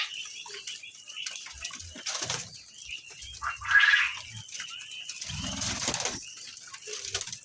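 A captive quail flapping its wings while being grabbed by hand, with short, soft bursts of wing flutter and rustling at close range, separated by quiet gaps.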